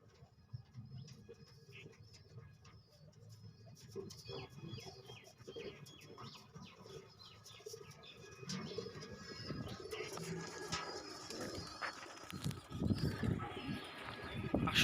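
Jalali pigeons at a pigeon farm coo softly over their eggs, with faint low coos and scattered chirps that grow a little busier toward the end.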